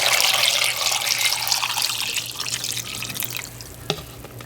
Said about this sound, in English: Next, cover it with water.